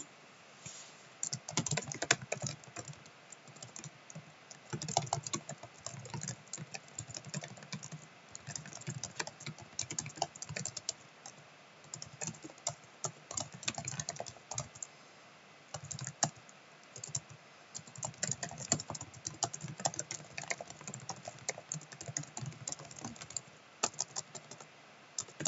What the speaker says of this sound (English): my hands are kind of like busy with typing away here